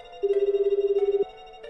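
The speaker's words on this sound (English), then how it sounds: "The phone rang several times before a sleepy voice finally answered." Phone ringing in the video game 428 Shibuya Scramble, a single rapid warbling electronic ring tone, clear and steady for about a second before cutting off, with faint game background tones behind it.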